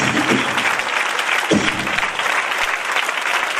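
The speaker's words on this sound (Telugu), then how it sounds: "అందరు చప్పట్లతో దేవుని కనపరుస్తామా?" A church congregation at a Christmas service claps together in a dense, steady burst of applause that fills the room, with a few murmured voices underneath.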